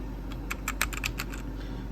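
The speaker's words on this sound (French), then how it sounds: "ça c'est le clavier, mais un nouveau clavier" Keys clack in a quick burst on a new Bluetooth Fortnite-themed keyboard with LED lighting, about a dozen light taps close by over steady low background hum.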